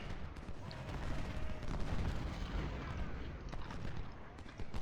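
Dense Civil War battle gunfire in Ultimate General: Civil War at Malvern Hill, a continuous crackle of musket volleys and distant cannon booms, with someone talking over it.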